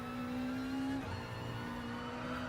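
Race car at full throttle in Gran Turismo Sport, a loud sustained engine whine with a steady harmonic tone that dips briefly at the one-second mark as a gear shifts, then climbs again, heard alone without talk.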